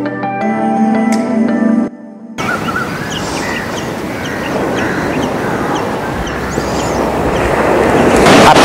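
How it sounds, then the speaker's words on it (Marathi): Large high-tide waves crash onto the beach at Vengurla on the Konkan coast, a broad continuous roar of surf and wind that swells louder toward the end after a brief cut from other noise at the start. "मोठमोठ्या लाटा एकदम किनाऱ्यावरती जोरात येऊन आदळायला लागलेल्या आहेत"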